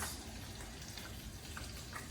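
Onions, peppers and sausage sizzle steadily in a hot pan while stir frying, a constant crackling hiss with small pops, with no talking.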